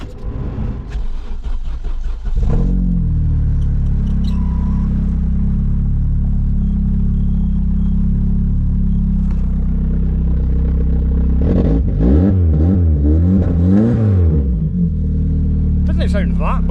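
A Vauxhall Cavalier Diplomat engine running loud and close through a Peco Big Bore exhaust silenced only by a catalytic converter, first clattering at idle, then settling into a steady rumble with a revving rise and fall near the end.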